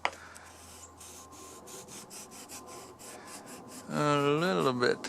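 A hand chisel pares wood along the edge of a door while a hinge recess is cut by hand, giving soft, repeated scraping strokes at close range, followed near the end by a loud tonal squeal.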